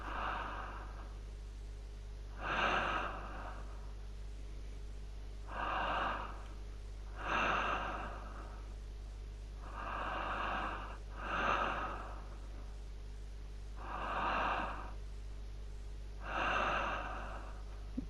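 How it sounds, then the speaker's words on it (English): Heavy, slow mechanical breathing in the video game The Bunker, a creepy respirator-like inhale and exhale repeating about every two and a half seconds over a steady low hum, with no talk. "scariest thing about this game so far is definitely that breathing"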